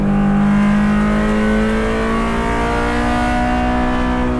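A Honda S2000 time attack car's engine revving high and holding steady, a loud, close, sustained tonal drone with a slowly rising pitch and no talk.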